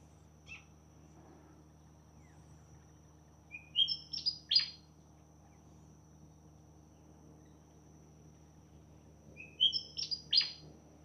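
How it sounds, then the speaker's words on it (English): A small bird tweets outdoors on a street in Innisfail, Australia, giving two short bursts of high chirps several seconds apart over a faint, steady background hum. "bird singing there."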